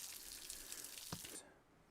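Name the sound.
small waterfall in a state park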